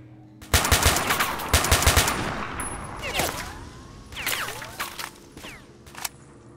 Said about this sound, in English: Bullets are literally whizzing past my head here.